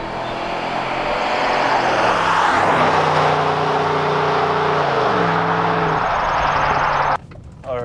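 A BMW X5 4.6is V8 engine pulls loudly and steadily from inside the cabin while driving, its tone rising through the revs with audible gear shifts before dropping off abruptly near the end.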